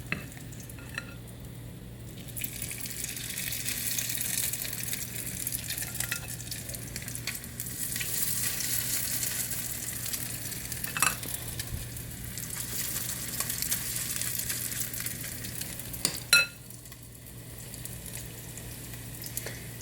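Salmon patties sizzle steadily in hot oil in a pan, a continuous close frying hiss with occasional sharper pops and light clinks of a utensil, no voices heard.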